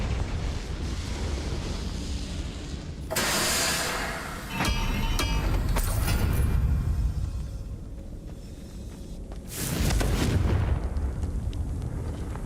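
Confringo fire spell explosions go off in Hogwarts Legacy: several loud, booming blasts with crackling bursts, separated by short rumbling lulls, the last big blast landing near the end.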